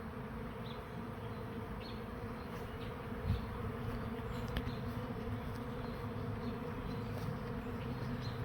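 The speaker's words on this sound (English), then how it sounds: "here's a swarm coming in again." A honeybee swarm arrives at a swarm trap in a backyard, making a dense, steady buzz that holds at an even level with no talking.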